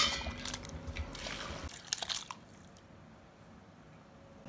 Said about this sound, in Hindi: अब चावलों के हिसाब से चावलों में पानी डाल देंगे।